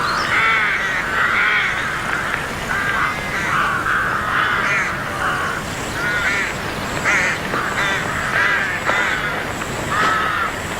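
Crows and rooks caw steadily in summer woodland on the North York Moors, a loud, continuous chorus of harsh overlapping calls repeating without pause.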